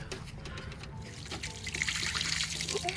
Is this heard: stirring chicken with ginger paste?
no